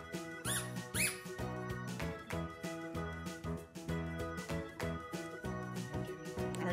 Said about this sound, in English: Okay, now squeak two times